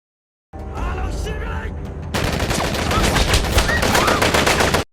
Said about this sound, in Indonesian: Mereka yang selamat bahkan harus mati diberondong peluru oleh tentara Burma